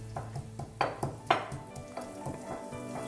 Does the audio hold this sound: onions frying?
yes